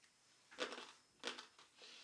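Hard red candy shards bitten and chewed close up, three quiet crisp crunches spaced apart in an otherwise hushed room.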